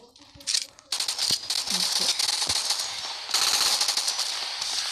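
Rapid automatic gunfire in a shooter video game, dense rattling bursts almost continuous after a brief opening shot, loud and close, with a player's voice faintly underneath.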